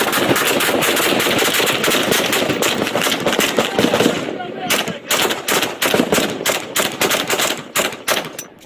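Rapid bursts of gunfire crack out in dense volleys as a suspect inside a truck fires at police officers in Mesa, continuous at first, then breaking into separate quick shots, loud and close.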